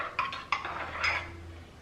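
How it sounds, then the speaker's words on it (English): A spoon stirring a homemade Starbucks-style fall coffee drink in a cup, with a few bright metallic clinks against the sides and a soft swirl in between, close and quiet with no talking. "give that a stir."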